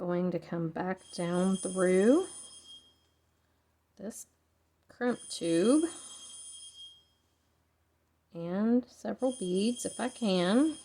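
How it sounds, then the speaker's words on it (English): A telephone rings in the background with bright, high, bell-like trills between stretches of close speech by a woman. "Sorry for the ringing phone in the background."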